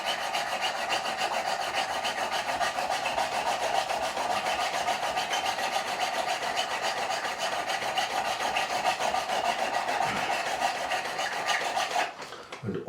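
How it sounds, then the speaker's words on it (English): A fine number 2 Vallorbe file smooths a guitar fret on a Fender Telecaster in steady, fast rasping strokes for several seconds, close and quiet, stopping near the end. "this is for removing the scratches and smoothing off"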